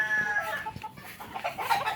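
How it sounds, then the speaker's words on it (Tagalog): Chickens cluck nearby in short, overlapping bursts, several birds murmuring and squawking close together. "puro manok"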